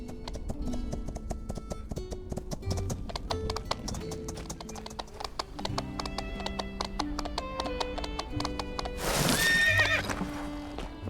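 Horse neighs and clip-clopping hooves in the video game My Time at Sandrock, loud and steady over layered game music, with a burst of whinnying and hoof noise near the end.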